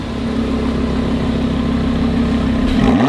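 A car idles on the open top deck of a parking garage, a steady low engine hum with a faint rhythmic pulse that holds level and swells slightly at the end.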